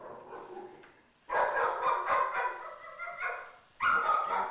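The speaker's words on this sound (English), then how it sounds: "we had a reaction from the dog" A dog reacts with loud barks during a nighttime paranormal investigation, a softer stretch of whimpering followed by two strong bursts of barking, close by, with no talk over it.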